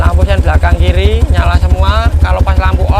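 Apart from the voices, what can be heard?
None of the usual background noises is heard.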